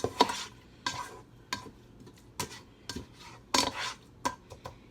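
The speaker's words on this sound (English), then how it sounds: "So then you're gonna mix everything." A spoon scrapes and taps through a Takis elote mixture in a pot, about nine separate stirring strokes with quiet pauses between them.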